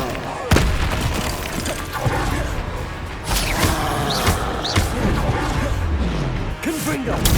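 A Stupefy spell is cast in Hogwarts Legacy, played on PS5 Pro, amid a dense, loud barrage of magical combat booms and blasts, with a sharp impact near the start and repeated bursts throughout, plus in-game voices.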